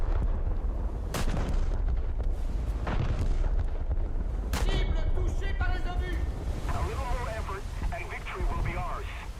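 Heavy battleship guns boom in a naval video game as a salvo fires at a Cleveland cruiser, with several loud low blasts spaced a few seconds apart over steady wind and sea noise, and faint mechanical tones near the end.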